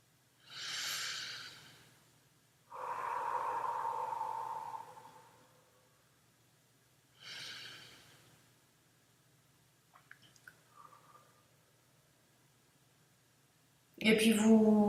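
Deep, slow breaths during a standing relaxation exercise, several long, airy inhales and exhales spaced seconds apart and heard close, with a louder breath or sound at the very end.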